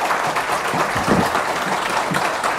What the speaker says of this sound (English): with a round of applause, I introduce to you Council Member